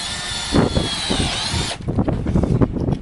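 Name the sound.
power drill driving screws into gate post hinge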